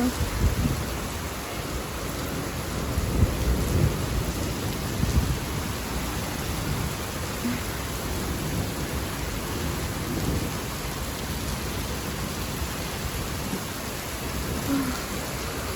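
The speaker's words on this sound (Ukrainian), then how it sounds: "Дощик зустрічає, так?" A steady rain shower with rolling thunder, constant dense patter on surfaces and low rumbles swelling at times, heard alone without talk.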